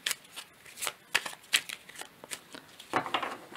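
Tarot oracle cards being shuffled and drawn by hand: a rapid series of crisp riffling snaps and soft slaps, close and fairly quiet, in uneven bursts with short pauses between.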